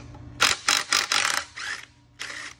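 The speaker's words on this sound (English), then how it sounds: "we're gonna loosen up the four bolts that hold the flange bearing in place" Tools at work loosening the four bolts securing a flange bearing on a rotary airlock shaft: several close, loud bursts of rapid metallic clicking, like ratcheting, separated by short pauses, with no talking.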